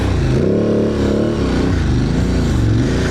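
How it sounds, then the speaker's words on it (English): An Aprilia Tuareg off-road motorcycle with an HP Corse full-system exhaust revs loudly and close by, the engine note rising and falling steadily with no talking. "the exhaust that I have, the HP Course full system, sounds absolutely awesome"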